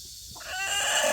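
A brooding Araucana hen squawks when its comb is touched, a harsh, rising call that builds and stays loud and close through the end.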